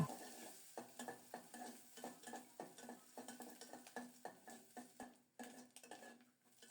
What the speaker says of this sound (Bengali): সরিষার তেল গরম হলে পোড়ানো নারিকেল দিলাম নেড়ে চেড়ে নারিকেলটাকে লাল লাল করে ভেজে নেব